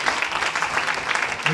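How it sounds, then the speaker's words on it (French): An audience at an awards ceremony claps in a dense, steady burst of applause, many hands close and loud throughout the short moment. "bravo, on vous applaudit encore"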